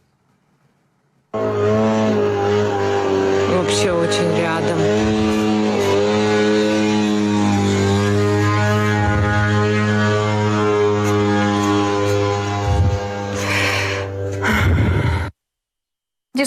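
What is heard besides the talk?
attack drones buzzing overhead like mopeds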